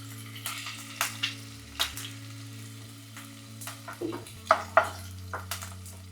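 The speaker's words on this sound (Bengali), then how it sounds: "আলুগুলো অলমোস্ট ভাজা হয়ে গিয়েছে" Potatoes frying in hot oil in a pan make a steady sizzle, broken by several sharp scraping stirs and light clatters of a utensil against the pan.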